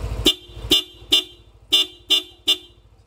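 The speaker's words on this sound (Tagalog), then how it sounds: "kapag nakaloha, pag bumusina ka, may kasamang parang nagbiblink na ilaw." Car horn honking six times in short, evenly spaced toots, loud and close, with a low engine idle running underneath.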